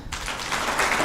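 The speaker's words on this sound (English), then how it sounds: "Desmond deserves a better clap" Brief, brisk applause breaks out for Desmond at a race media launch, a dense patter of many hands clapping close by that swells over about a second.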